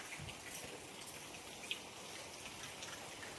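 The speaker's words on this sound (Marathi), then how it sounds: "पाऊस आला" Heavy rain falls outdoors where a bike is parked, a faint, steady patter and hiss with one brief sharper drop near the middle.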